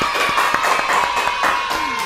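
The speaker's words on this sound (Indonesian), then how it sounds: "Tepuk tangan dong yang meriah" Cheers and scattered clapping greet the premiere of a student podcast, a loud, busy crowd roar with shouts and a thin steady tone beneath it.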